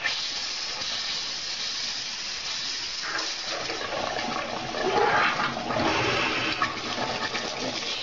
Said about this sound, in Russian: И затем открываем кран-бокс горячей воды, чтобы выпустить воздух из системы.